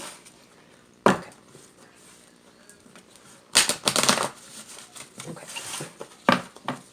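Tarot cards being shuffled by hand, a few sharp riffling bursts separated by quieter gaps, close and crisp.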